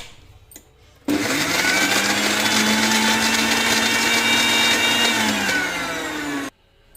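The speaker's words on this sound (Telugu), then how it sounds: "ఇంకొకసారి మిక్సీ పట్టాలన్నమాట" A mixer grinder whirs loudly for about five seconds blending a green gram face cream, starting abruptly and cutting off sharply, with a steady high motor whine and a slight drop in pitch toward the end.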